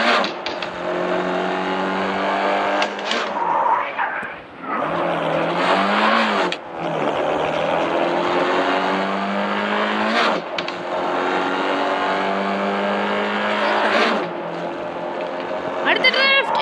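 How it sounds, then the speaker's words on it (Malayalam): Car drifting in a video game, with engine whine rising and falling through repeated revs and tyre-squeal sweeps, loud and continuous, with a voice talking over it. "ഇതൊരു ഡ്രിഫ്റ്റിംഗ് ഗെയിമാണ്, അതുകൊണ്ട് ഡ്രിഫ്റ്റ് ചെയ്ത് കളിക്കാം"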